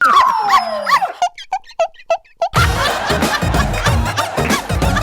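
On a TV dance show stage, a person imitates a dog with a string of short, sharp barks, then loud laughter and chatter from a crowd takes over.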